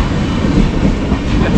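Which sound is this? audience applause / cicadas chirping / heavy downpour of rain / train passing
train passing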